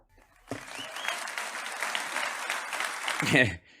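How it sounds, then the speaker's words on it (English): Crowd applause at a political policy gathering in Washington DC, bursting in abruptly, holding as a full steady roar of clapping, swelling just before it cuts off sharply. "Yes, everyone applaud"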